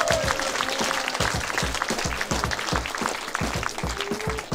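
Audience applause at a dance battle show in a hall, steady dense clapping throughout with rhythmic thumping beats underneath, fairly loud and continuous.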